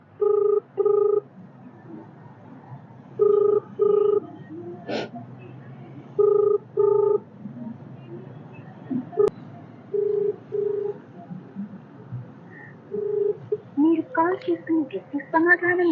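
A phone ringback tone repeats in paired beeps at steady intervals, sounding again and again with no answer, with a brief voice near the end.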